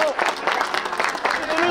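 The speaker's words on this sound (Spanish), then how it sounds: "¡Ese bote de aplausos!" Brief burst of applause and cheering from a carnival crowd at a street festival in Jauja, Peru, mixed with loud excited voices and music-like tones over the top.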